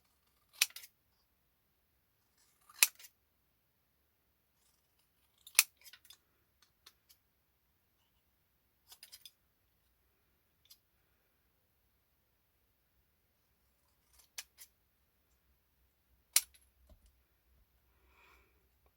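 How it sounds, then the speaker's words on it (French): Scissors snip through paper in a few short, sharp cuts spaced out over a quiet background. "on va venir, hop, couper notre petit message"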